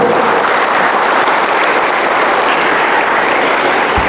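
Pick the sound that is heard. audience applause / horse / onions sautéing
audience applause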